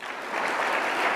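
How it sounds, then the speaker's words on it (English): Conference audience applauding a doctor after a talk at a national crime prevention conference, a brief, even wash of many hands clapping together at moderate volume. "May we give the doctor a round of applause, please?"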